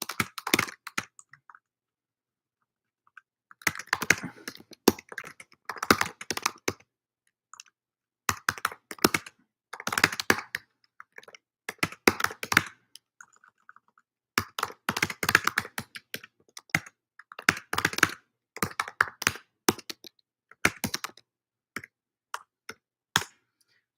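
Someone types on a computer keyboard in bursts of rapid, close clicking keystrokes separated by short pauses, steady and fairly quiet with no talking over it.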